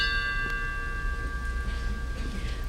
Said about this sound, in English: And now we will read aloud each name and perform a bell toll after each name.